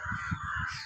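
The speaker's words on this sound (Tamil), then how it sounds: "காக்கா" A crow caws in a quick run of several rough, harsh calls, fairly close but not loud, with no talking.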